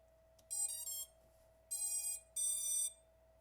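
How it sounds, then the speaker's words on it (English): A drone flight controller sounds three loud, high-pitched electronic beeps, each about half a second long, with pauses between them and a faint steady tone underneath. "now let's see if we get the other beeps"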